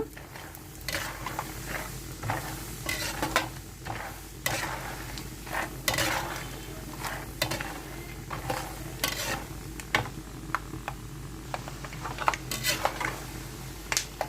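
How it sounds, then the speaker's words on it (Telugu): Peanuts fry in oil in a pan, a steady sizzle broken by repeated scraping and clinks of a metal spoon stirring against the vessel. "ఆ నూనెలోనే వేరుశనగ గుళ్ళు వేసుకొని చేసుకుందాము"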